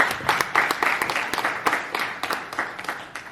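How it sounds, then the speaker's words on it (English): An audience applauding during a Nigerian Idol Season 10 spotlight show, a dense patter of clapping that gradually thins and softens. "they deserve a round of applause"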